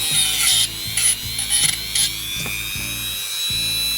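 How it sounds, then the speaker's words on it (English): A Dremel rotary tool whines steadily with a high-pitched tone, overlaid by repeated ratcheting clicks and short bursts of brushing contact, close and fairly loud during cuckoo clock servicing. "Alright, Dremel's warmed up."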